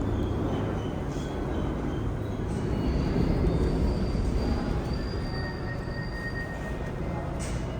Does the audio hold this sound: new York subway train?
yes